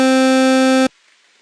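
A synthesizer square wave at 25% pulse width sustains a single bright, reedy tone for under a second before stopping abruptly, with no other sound.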